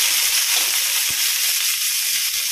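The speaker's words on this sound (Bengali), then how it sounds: "এবার আমি জলপাইগুলো দিয়ে দেবো, দিয়ে ভালো করে নাড়াচাড়া করে নেবো।" Steady bright sizzle of olives frying in a pan, continuous and fairly loud, with a few soft low thumps of stirring underneath.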